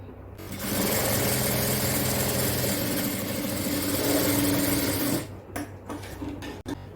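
A sewing machine stitching a folded hem on a kids' frock runs in a steady, loud whirring burst for about four and a half seconds, then stops, followed by light handling clatter.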